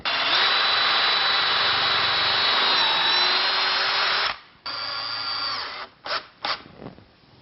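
Power drill boring through a laminate countertop from the top, a close, loud steady whine that cuts off partway, then a few short bursts of drilling.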